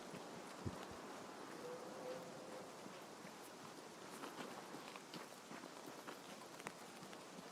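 Footsteps in a first-person shooter video game, faint repeated steps on soft ground with rustling texture, quiet and continuous beneath light ambient noise, no talk.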